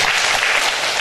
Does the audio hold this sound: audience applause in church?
yes